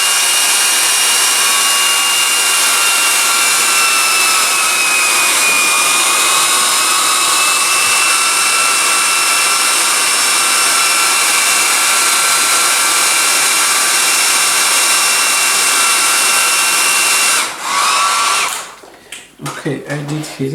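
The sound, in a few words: heating a plastic CPU socket with hot air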